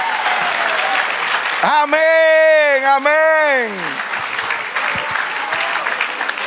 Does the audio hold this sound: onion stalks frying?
no